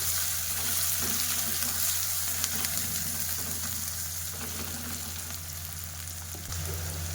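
Chopped onions sizzle and fry steadily in a pan over a medium flame, with occasional scraping and stirring, a constant close crackle lasting the whole time, a low hum underneath and no talking.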